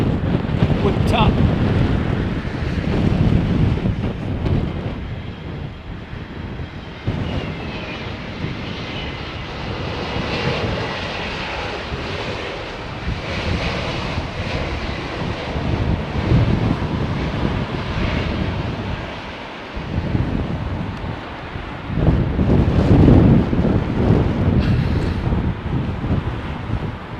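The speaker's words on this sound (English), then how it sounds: "Wind still whipped up." Strong wind buffeting a microphone outdoors at London Heathrow Airport, a loud, continuous low rumbling roar that swells and dips throughout, with aircraft engine noise blended underneath.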